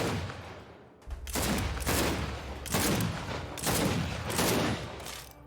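A gun in the video game Gears 5 fires in a steady series of loud, heavy shots with booming low-end thumps, each blast ringing out in an even rhythm over several seconds, no voices.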